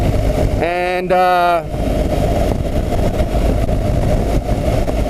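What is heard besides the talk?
BMW GS 1200 motorcycle engine idling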